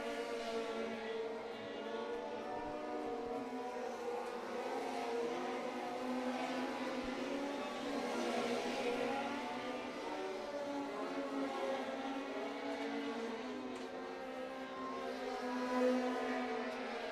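Race cars running a qualifying lap at Muskingum County Speedway, a steady, continuous engine drone from several cars circling the track, held at moderate distance with a gentle rise and fall in loudness and no talk.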